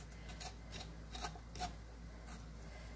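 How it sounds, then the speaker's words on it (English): A spoon scraping food during prep for sancocho, several short rasping strokes at a steady pace, quiet and close over a low background hum. "scrape that right with a spoon, it comes right off"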